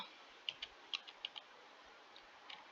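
Keyboard typing while entering a formula in Excel, a handful of separate quiet key clicks scattered over a faint background hiss, with no voices.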